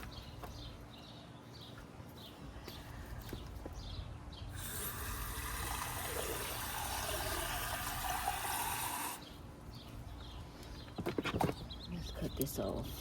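Water pouring steadily into a container holding cherry tomato plants in a garden, a few seconds of continuous splashing flow between stretches of quieter outdoor sound and a voice.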